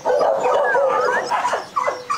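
A tiny white bobtail puppy barks and yips in a high, thin voice, with a run of close, loud, squeaky calls followed by a brief pause and then one more sharp yelp.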